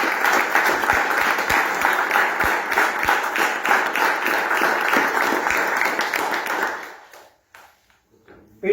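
An audience at a book presentation applauds warmly, dense sustained clapping that fades out after about seven seconds before a voice resumes.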